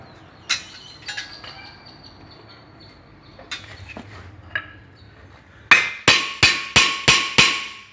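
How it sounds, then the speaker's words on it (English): Metallic hammer strikes ring out on a Mitsubishi Galant front brake rotor, a few scattered taps early on, then six loud, evenly spaced blows on metal in quick succession. "bang the heck out of it on that rotor with a hammer"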